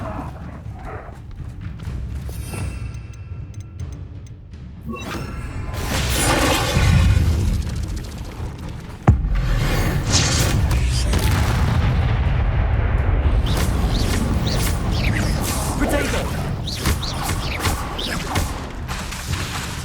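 Expelliarmus and Repulso spells are cast in the Hogwarts Legacy video game, with loud magical blasts, booms and crashes of combat, one sharp impact midway and dense rumbling effects afterward.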